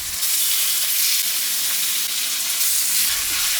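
Beef pieces dropped into hot oil with sautéed garlic and onion give a steady, loud broadband sizzle that holds evenly throughout, with no voices.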